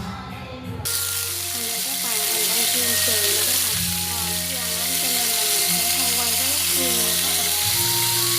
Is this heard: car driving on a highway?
no